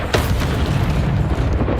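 An Incendio fire spell cast in Hogwarts Legacy during a fight with spiders, a loud, dense whooshing burst of flame with a booming low rumble that fills the whole moment.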